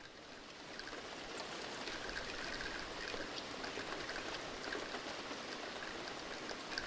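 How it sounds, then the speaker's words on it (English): Water being collected in a cute rabbit video game makes a steady trickling stream. The soft, continuous flow carries on evenly throughout with no talking. "I'm collecting water now."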